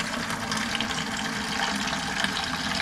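A brushed gold waterfall bathroom faucet pours water in a steady, even hiss, running continuously and close with no voices.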